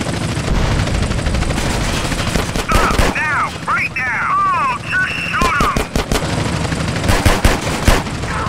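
Rapid bursts of gunfire and machine-gun fire from a drive-by shootout in GTA San Andreas, loud and dense, with sharp volleys and a helicopter-like drone, with voices talking between the shots.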